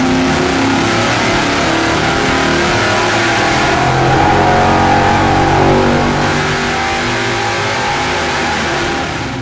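A Dart short block engine on a dyno runs a nitrous pull, producing a loud, sustained roar that rises steadily in pitch for about seven seconds before easing off at the end.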